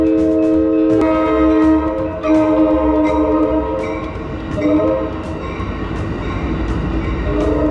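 A train rumbles past nearby at Jack London Square, Oakland, while its horn blares in long, loud sustained blasts over the rolling noise.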